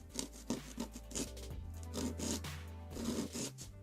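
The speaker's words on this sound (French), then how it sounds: "vous devez limer pour enlever le gel de finition" Acrylic nail resin with a gel finish being filed by hand with a nail file, close up, in quick repeated rasping strokes with short pauses between bursts.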